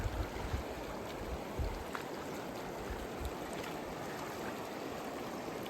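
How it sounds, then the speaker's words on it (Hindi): The Kishanganga river in the Gurez Valley of Kashmir flows gently, making a soft, steady rushing and trickling wash that stays even throughout, with no voices. "यहाँ पे है किशन गंगा, बड़े आराम से बहती हुई।"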